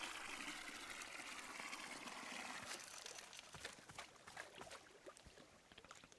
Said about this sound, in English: Fill the watering can with water and pour it into your new egg.